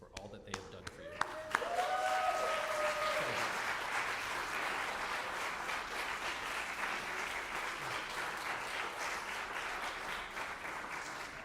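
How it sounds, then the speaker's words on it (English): An audience at an honors convocation for the SDSU School of Music and Dance rises and applauds its support teams, a dense, steady wash of clapping from a large crowd after a brief voice at the start. "please rise and applaud your support teams, family, and friends for all that they have done for you"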